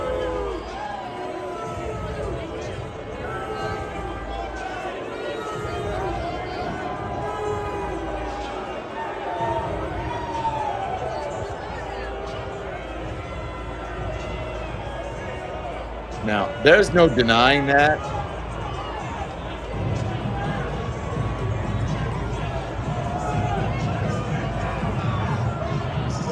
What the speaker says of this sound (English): Donald Trump on the road getting booed.